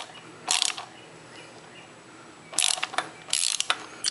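A 12 mm socket wrench ratchets a nut loose on the EGR valve of a V6 Honda Accord, giving three short bursts of quick, close clicking separated by quiet pauses.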